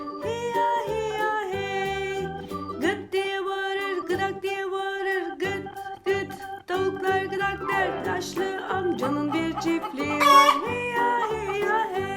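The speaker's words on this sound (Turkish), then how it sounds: "Çiftliğinde tavukları var" Chickens cluck and a rooster crows amid a busy, sung melody with instruments, the animal sounds woven in and out of the music.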